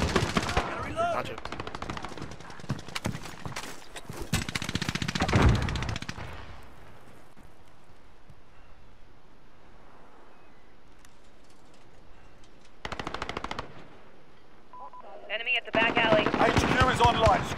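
Bursts of automatic gunfire from a Call of Duty multiplayer match rattle loudly at the start and return near the end, separated by a quieter stretch of game ambience.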